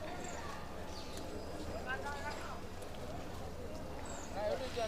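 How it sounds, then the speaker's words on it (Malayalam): A bullock cart on a visitor ride near the Adiyogi Shiva statue in Coimbatore passes with faint hoof clip-clops, under someone talking. "അതുപോലെ ഇവിടെ നമുക്ക് കാളവണ്ടി സർവീസൊക്കെ അവൈലബിൾ ആണ്. ഒരെണ്ണതാട്ടോ വരുന്നത്."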